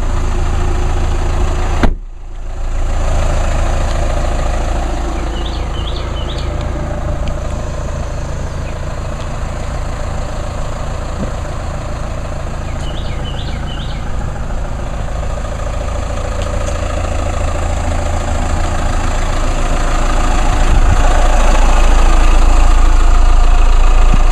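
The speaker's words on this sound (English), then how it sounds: "just come outside just for a little walk around of the car running" A 2014 Chevrolet Cruze turbo diesel idles outdoors, a steady, loud, close engine drone that continues evenly throughout after a brief bump near the start, with no talking.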